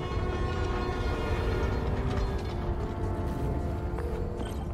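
A New York subway train in the video game Spider-Man: Miles Morales gives a steady, loud rumble of wheels and carriages, with metallic creaks and tonal squeals riding on top throughout.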